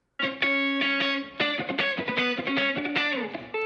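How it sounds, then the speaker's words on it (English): An electric guitar with reverb, panned to one side, rings out in a short riff of sustained chords and quick plucked notes, bright and full with a lingering tail. "this track has reverb on the right, it's panned to the left, and the other snap guitar here"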